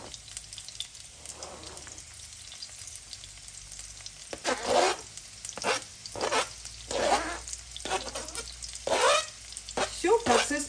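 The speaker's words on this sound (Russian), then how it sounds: "я на другой сковородочке уже начну обжаривать овощи. Выкладываю морковь, лук," Carrot, onion and pepper go into a hot frying pan and sizzle in rising bursts of crackle and hiss, growing louder and busier through the second half, close by and with no talking.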